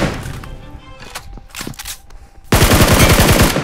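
Automatic rifle fire in PUBG Mobile, with scattered single shots giving way to a loud, rapid burst of close gunfire.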